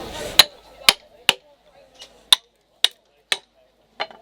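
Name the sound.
tapping a wedge into a carving bench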